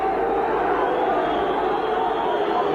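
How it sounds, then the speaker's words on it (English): Football supporters at a Dundee v Dundee United match boo a referee's decision in a loud, sustained, dense crowd roar with no break. "Supporters booing the referee's decision"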